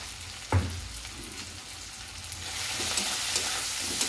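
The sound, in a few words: spices and vegetables being stirred and frying in a pan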